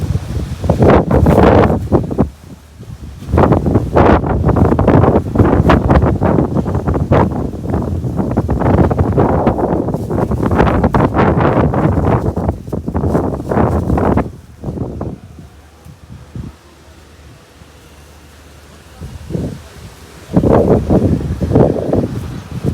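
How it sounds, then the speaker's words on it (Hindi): Strong gusty wind buffets the microphone outdoors near a village during a storm, loud roaring blasts in repeated surges with brief lulls between them and no talk. "हवा से ही हिल रहा हूँ मैं, हवा से हिल रहा हूँ, इतनी तेज हवा है।"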